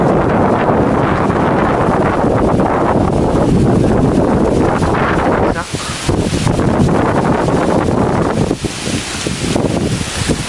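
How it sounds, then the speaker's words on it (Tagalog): Strong typhoon wind in Roxas, Isabela, Philippines roars and buffets the microphone continuously, surging in heavy gusts with a brief dip before blasting again. "Lakas po ng hangin talaga."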